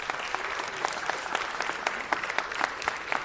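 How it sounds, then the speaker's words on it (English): An audience at a city council meeting gives a round of applause honouring a girls' volleyball team. The clapping is sustained and lively, with sharper individual claps standing out. "So let's give these ladies a big round of applause."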